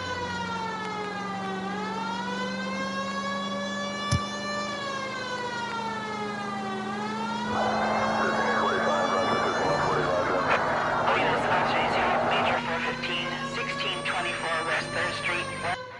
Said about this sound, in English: You move well before you hear those sirens right behind you.